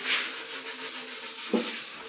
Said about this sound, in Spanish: lijamos toda la guitarra por completo